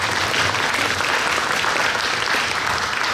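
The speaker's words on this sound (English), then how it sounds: "Give him applause." Sustained audience applause fills a room at a naval history talk on the Guadalcanal Campaign, a dense, steady wash of many hands clapping at even loudness throughout with no voices breaking through.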